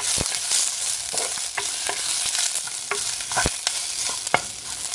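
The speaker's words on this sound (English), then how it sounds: "So you just want to fry all the onions till they're slightly softened." Onions sizzle in a pan with garlic and green chili, a constant bright frying hiss close by, punctuated by regular spoon scrapes and clinks as they are stirred; no voices.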